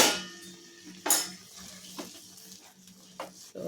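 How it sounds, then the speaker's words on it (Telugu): Paneer being mixed in a metal vessel, with a few distinct clanks and scrapes of a spoon against the vessel between quieter stretches, close and moderately loud, no speech. "ఇప్పుడు ఈ పన్నీరు మనం దీనిలో వేసుకుని కలిపేసుకోవాలి."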